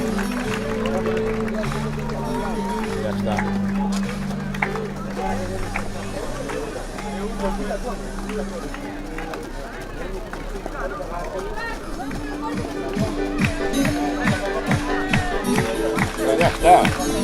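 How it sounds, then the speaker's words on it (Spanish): A handball crowd in an indoor arena claps along in steady rhythmic unison, the beats growing louder near the end over continuous hubbub, cheering and commentary-like speech. "El público se anima, levanta las palmas"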